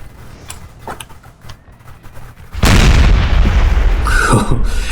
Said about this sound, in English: And you just hear the cannons firing up this hill.